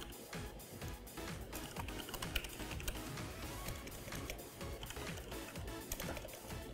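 Rapid typing on a computer keyboard, irregular bursts of close, crisp key clicks running steadily throughout at low volume.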